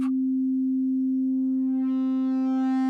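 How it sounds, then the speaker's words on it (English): An ASM Leviasynth synthesizer oscillator being phase-modulated by another oscillator gives a steady pure tone that slowly gains a widening stack of bright, buzzy overtones, sustained and alone. "And this is phase modulating oscillator 2"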